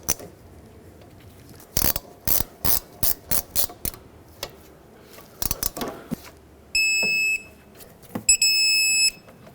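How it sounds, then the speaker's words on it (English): Ratchet wrench clicking in quick bursts while a rear brake caliper mounting bolt is tightened on a 2007-2009 Saturn Aura, close and loud, with short electronic beeps toward the end. "I'm gonna have to hold the slider while I tighten up the bolt."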